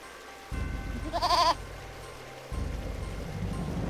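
A goat in the video game Eternal Sonata gives a short, wavering bleat over a game soundtrack, one brief nasal cry lasting about half a second.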